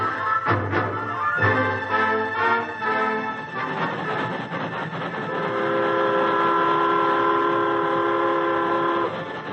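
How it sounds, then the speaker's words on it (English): A train rolls on the rails in a radio drama scene, with loud rumbling and clanking, a few sharp knocks early on, then a sustained whistle-like horn tone in the second half. "the train slowed to a stop"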